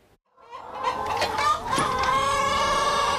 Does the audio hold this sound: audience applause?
no